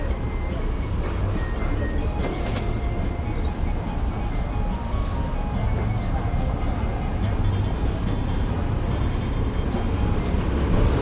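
Buses idle and rumble at a busy southern bus station in Vientiane, a steady loud engine drone with traffic noise throughout and people talking over it.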